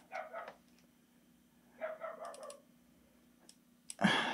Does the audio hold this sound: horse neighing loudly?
no